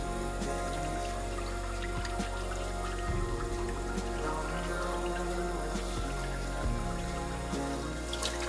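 Water poured to saturate a houseplant's moss pole indoors, a steady trickling and dripping wash, close and continuous, with a few low bumps and knocks underneath.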